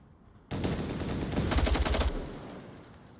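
Gunfire in Onward VR, a sudden loud burst of rapid automatic shots that starts abruptly, grows denser mid-way, then trails off into a fading echo.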